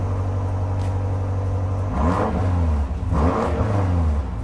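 A 2018 BMW M5 idles steadily with its exhaust in regular mode, then gives two sharp throttle blips that swell and settle. It is loud and close, with no voices.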